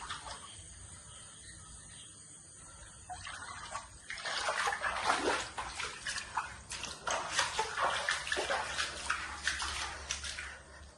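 Water sloshes and splashes across the floor as a flooded home kitchen near a river is cleaned out after the floodwater recedes. It starts quiet, then comes in close, repeated splashy bursts.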